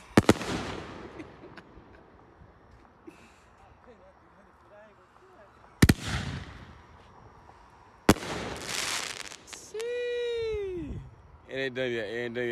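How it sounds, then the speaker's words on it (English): Fireworks burst outdoors at night in a few sharp loud booms spaced apart, with crackling tails and whistling trails between them, while people talk and react excitedly nearby. "See? W fireworks."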